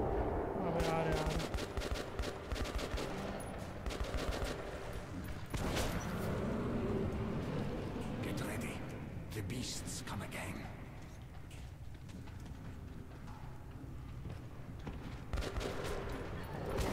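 Rapid shotgun blasts in Metro 2033, sharp repeated bangs scattered through a tense fight, loud and close, mixed with voices talking over the action.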